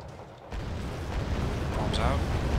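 Bombs explode in the real-time strategy game Wargame: Red Dragon, a deep, rumbling blast that rolls in after a brief lull and sustains as a heavy, loud roar to the end.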